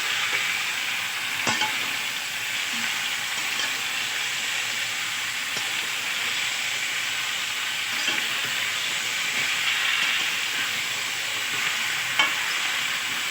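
Mango pieces frying and being stirred in a pan for sweet mango pickle, a steady soft sizzle with occasional light scrapes, no voices.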